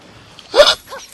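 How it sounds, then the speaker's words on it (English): A single loud hiccup cuts through a quiet room during a Genshin Impact game stream, one sharp burst followed by a softer, briefer voiced tail, close to the microphone. "That was a loud hiccup."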